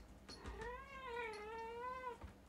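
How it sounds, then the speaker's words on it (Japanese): A pet cat lets out one clear, drawn-out meow lasting about two seconds. The pitch rises and then falls, and the call sits close to the microphone against quiet room noise. "キャンディー、うちの猫がね"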